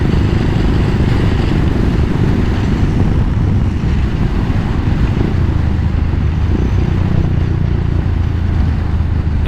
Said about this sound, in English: I've got a fair bit of wind noise in my helmet this morning for some reason